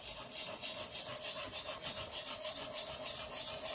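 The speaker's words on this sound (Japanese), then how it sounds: "柔らかい砥石になりましたよ。" Amehata inkstone being ground on a soft whetstone, a steady, close scraping rub that continues evenly without pause and with no talk.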